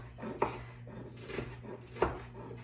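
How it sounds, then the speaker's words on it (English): Sliced peppers are diced with a knife, giving a few soft, spaced knife strokes against a cutting board, quiet and close, with no talking. "I'm gonna turn them and I'm gonna go ahead and just start dicing them up"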